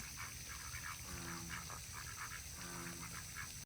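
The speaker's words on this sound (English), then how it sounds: "There are lots and lots of ducks." A large flock of ducks at the Myrtles house at night, quacking in scattered, overlapping calls over a steady background hiss, moderately distant with no talk.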